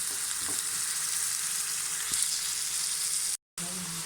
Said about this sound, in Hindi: इसमें हस्बे ज़रूरत हम पानी का थोड़ा सा तड़का सा लगाएंगे।